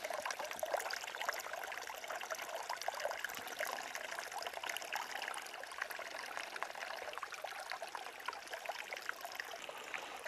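Water trickles steadily into a container during a soil erosion demonstration, a continuous near splashing dribble with no voices.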